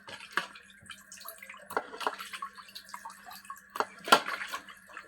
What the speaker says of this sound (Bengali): আমি প্রথমে ধুয়ে নিচ্ছি সুন্দর করে।